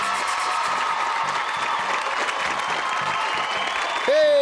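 Cartoon crowd applauding in a kids' animated episode, a dense steady wash of clapping with cheering mixed in, continuous and fairly loud for several seconds before a brief tonal sound cuts in at the end.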